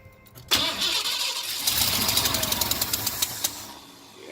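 A 1982 Ford 460 engine that has not run for a long time, with no gas yet in the carburetor, cranks briefly, then catches and fires into a loud, rough, close run with rhythmic knocking pulses.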